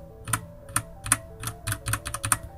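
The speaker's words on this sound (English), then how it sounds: "you might be able to hear this sort of like ping sound as I deliberately do this kind of weird press" A Corsair K65 RGB Rapidfire mechanical keyboard takes a series of separate key presses, about ten sharp clacks in an uneven rhythm, each with a thin metallic ping ringing after it, close and clear with no talking.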